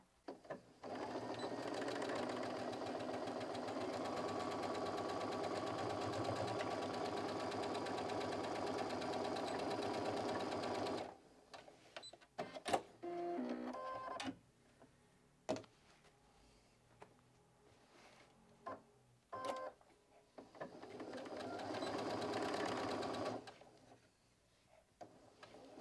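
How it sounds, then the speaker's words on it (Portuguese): A sewing machine stitches the side seams of a fabric organizer with pockets, a loud steady motor whir for about ten seconds, then fabric handling clicks and short bursts of stitching, ending in another sustained run. "costurar as laterais com um pé de máquina"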